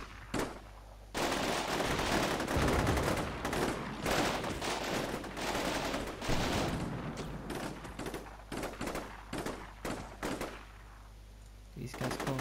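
Combat Mission: Shock Force 2 battle with dense bursts of rifle and machine-gun fire, rapid sharp cracks in clusters that thin out toward the end, fairly loud and mixed with occasional talk.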